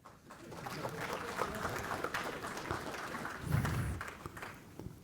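An audience at a developer talk on Ethereum claps after a live blockchain code demo, a steady broadband patter of many hands lasting several seconds with a brief louder swell near the end.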